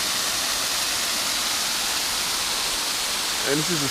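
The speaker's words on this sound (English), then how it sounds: "So here's a waterfall," A spring-fed waterfall that runs year-round, reached on a muddy winter 4x4 outing: a steady, broad rushing roar of falling water throughout, with a brief voice near the end.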